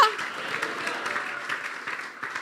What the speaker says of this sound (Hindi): तो बजा दें जी यीशु के लिए तालियां